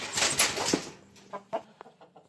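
Newly arrived hens on a farm clucking, several loud, close bursts early on, then a handful of shorter, separate clucks trailing off more quietly.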